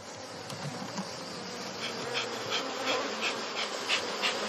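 Honey bees buzz steadily around a beehive in the Pays d'Arles, a dense, close hum with faint pulses of wingbeats and no talking.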